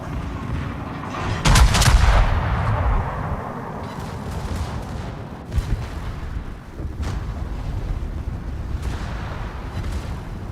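Naval guns fire in the World of Warships video game, a loud booming salvo with a sharp crack followed by scattered further shots and a rumbling decay, with no talking.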